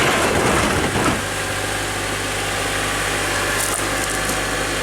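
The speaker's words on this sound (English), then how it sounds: "Nice smooth Honda sound." An Acura TSX engine, just fitted with a new alternator, idles with a smooth, steady low hum after a brief louder rustle at the start.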